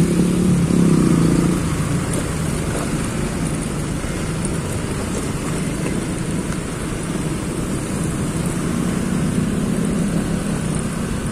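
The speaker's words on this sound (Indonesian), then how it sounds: "lagi gerimis nih" Light drizzle and road rush while riding a Honda PCX scooter on a road from Depok, a continuous loud wind-and-engine roar with steady hiss throughout.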